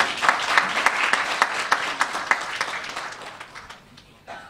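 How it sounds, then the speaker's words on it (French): Audience applause at a student-placement forum for a school director, several people clapping with a few prominent near claps in a steady rhythm over a softer spread, tapering off at the end. "vous devez applaudir,"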